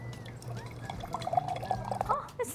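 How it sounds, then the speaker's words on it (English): Water poured into a glass for a homemade alcohol-free summer drink, a close trickling, splashing stream running steadily, filling and rising in pitch as it goes, with a low steady hum beneath. "I'm gonna pour water"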